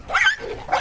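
A dog barks sharply twice in quick succession, close by, with a short yelping quality.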